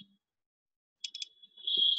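Computer mouse clicking, a quick burst of three light clicks in a quiet room, followed by a brief faint hiss.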